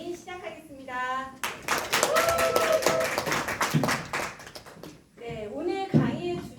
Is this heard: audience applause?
yes